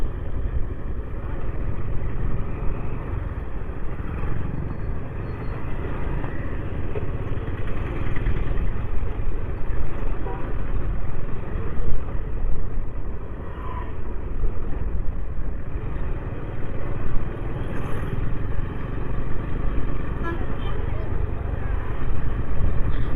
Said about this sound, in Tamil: ரொம்ப டிராஃபிக் இந்த ரோட்டில் பட்டுக்கோட்டை டு தஞ்சாவூர் ரோட்டில் அவ்வளோ டிராஃபிக்கு